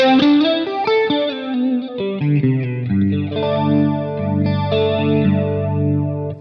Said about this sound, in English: Lovely subtle modulation going on there